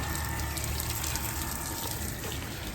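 Pump running and pushing water on a soft wash truck in the early morning, a loud, steady rushing and gushing flow with a constant mechanical hum underneath, unbroken throughout.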